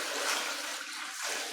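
Water poured in one go into a children's swimming pool, a steady broadband splashing rush that fades slightly midway and swells again near the end, close and fairly quiet with no talking.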